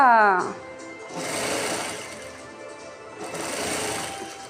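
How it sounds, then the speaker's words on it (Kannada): A sewing machine stitches the fall onto a saree, a close, fast mechanical whirr that runs in two bursts after a short opening sound. A voice seems to be speaking along with it. "ಅದಕ್ಕೋಸ್ಕರ ನಾನು ಸ್ಟಿಚಿಂಗ್ ಮಾಡ್ತೀನಿ."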